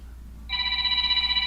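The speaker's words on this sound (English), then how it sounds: "Oop, I got a phone call, be right back." A telephone starts ringing partway through with a steady, warbling electronic tone that carries on to the end, fairly clear against a quiet background.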